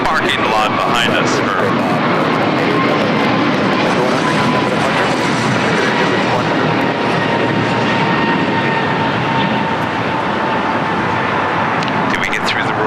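Airliner engines at LAX airport producing a loud, continuous roar that fills the whole stretch, with people talking underneath.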